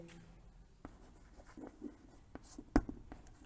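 Soft scratching and tapping of writing on a board during a maths lesson on sets, faint scattered strokes with one sharper tap, heard alone in a quiet room.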